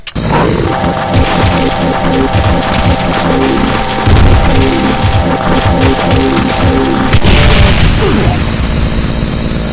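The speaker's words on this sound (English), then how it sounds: "you risk getting that ground explosion attack blowing you right in the face" Mancubus ground explosion attack in a Doom mod, heavy booming blasts and crashes layered with rapid gunfire and game effects, loud and continuous throughout with a bigger burst near the end.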